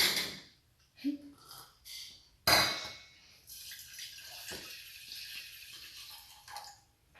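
Water poured into a pot while making an immune-boosting herbal kashayam at home, a short splash followed by a steady hissing trickle lasting several seconds, close and fairly quiet, with a few clinks of kitchenware.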